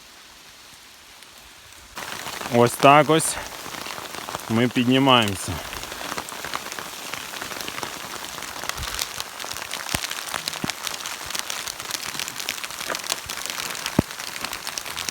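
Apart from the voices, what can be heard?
rain falling during a mountain hike in the Carpathians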